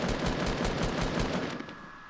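Rapid automatic gunfire in a video game, a fast even rattle of shots that runs loud for about a second and a half and then trails off into fading echo.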